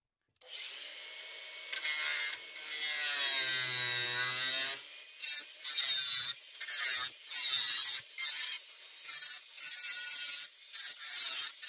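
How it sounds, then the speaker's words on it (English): A high-pitched cutting tool shrieks for a few seconds as screws are cut off, then a series of short grinding bursts follow with brief gaps as they are ground flush, close up and loud. "I'm going to cut these off and grind them down flush with the surface."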